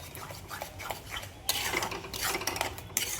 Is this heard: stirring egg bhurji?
yes